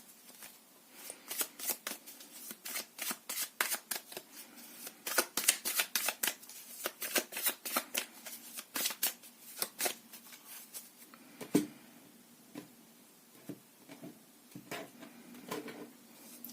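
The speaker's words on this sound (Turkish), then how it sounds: "İyice karıştırmam gerektiğini hissediyorum." Fortune-telling cards are shuffled by hand close up, with soft rapid riffles and slaps in uneven bursts, fairly quiet, with no talking.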